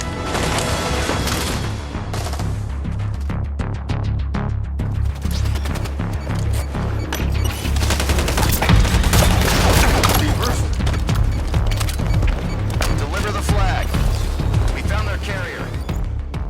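Gunfire in the video game Halo 5: dense, sustained bursts of rapid shots mixed with booms and crashes, loud and continuous, with voices heard at times over the combat.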